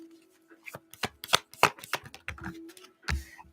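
Tarot cards being shuffled by hand in quick irregular riffles and flicks, close and fairly quiet, with a faint steady hum underneath.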